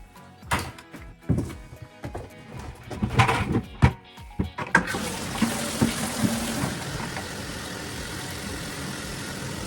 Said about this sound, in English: I'm going to dump this water out